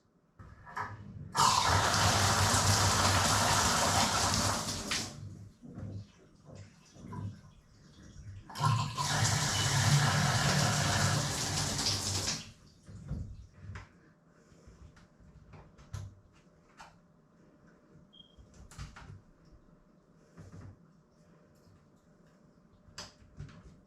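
Water rushing hard through a newly installed valve as it is flushed, in two loud sustained bursts of about four seconds each separated by a pause, with clanks and handling noises after.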